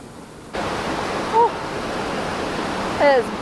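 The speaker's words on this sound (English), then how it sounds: "sounds like we're awfully close to the waterfall" Steady broadband roar of rushing water from nearby Eighteen Foot Falls, constant and loud, with two brief whistling bird calls over it.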